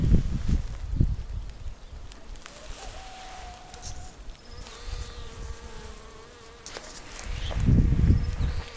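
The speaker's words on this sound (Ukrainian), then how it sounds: "Бджоли трошки літають, але щось малувато." Bees buzzing outdoors over flowering rapeseed, a few droning passes drifting near and away against a quiet open-air background, with occasional soft rustles.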